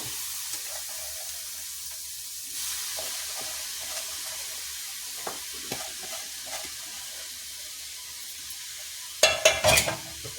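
Chopped carrot fries in a pan with a soft, quiet sizzle while being stirred, a few light scrapes scattered throughout and a louder cluster of clattering stirs near the end; no speech.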